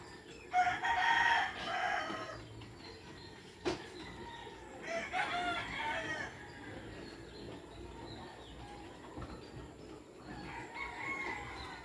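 Frizzle chickens in a garden: a rooster crows loudly nearby, followed by further crows and clucks spaced through the stretch against a quiet outdoor background.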